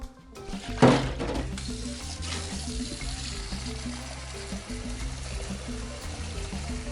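Water pours into a cooking pot of matoke green bananas seasoned with cayenne pepper, beginning with a sharp splash and settling into a steady, close rushing stream over a low background hum.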